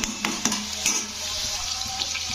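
Potato pieces deep-frying in hot oil in a home kitchen before being lifted out, a steady dense sizzle with a few louder bursts and faint utensil clinks, no talking.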